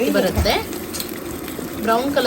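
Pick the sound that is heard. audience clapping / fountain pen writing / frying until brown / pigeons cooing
frying until brown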